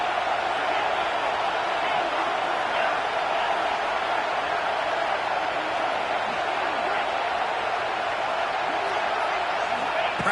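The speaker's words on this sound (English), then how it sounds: "Crowd trying to help out here on 4th down." A football stadium crowd in a video game roars on 4th down with a steady, dense, unbroken wash of cheering noise that stays loud and even throughout.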